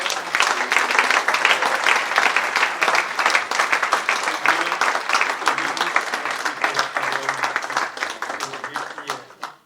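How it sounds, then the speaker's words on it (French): A church congregation at a Good Friday Easter service breaks into sustained, dense applause, steady and loud throughout with no let-up. "Est-ce qu'on peut acclamer le Seigneur?"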